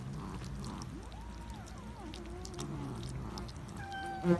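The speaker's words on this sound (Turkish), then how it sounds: "Bu da başka bir kedi." A hungry stray cat on a neighbourhood street meows while being fed liver, several drawn-out mews spaced across the moment over faint outdoor background, with a closer sharp sound at the end.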